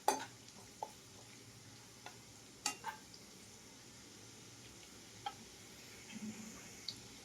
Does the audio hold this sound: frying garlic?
yes